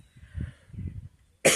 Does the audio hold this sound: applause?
no